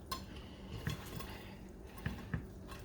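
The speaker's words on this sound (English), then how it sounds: "I'm just eating the pork chop." Cutlery clinks against a plate while a pan-fried pork chop in brown onion gravy is eaten, a few soft scattered taps and scrapes, close and fairly quiet.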